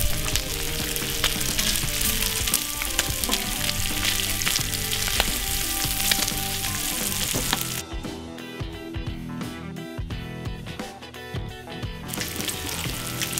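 Bacon fries on a barbecue grill with a loud, dense, continuous sizzle and crackle, heard close up throughout; the sizzle thins somewhat near the end but keeps going, with no talk.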